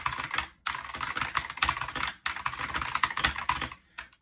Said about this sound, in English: these have Razer's optical switches in them, and they're supposed to feel extra fast.